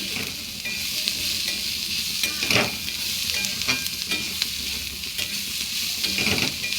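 Onions and garlic frying in a pan for onion chutney are stirred slowly, giving a steady loud sizzle with repeated scraping strokes of the spoon, close up and without talk.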